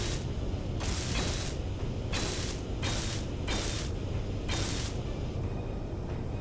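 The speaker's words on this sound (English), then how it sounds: "we'll weld that up" Block welding in Space Engineers, a loud, steady grinding mechanical hiss that swells in repeated bursts of about half a second each over a constant rumbling bed, with no talk.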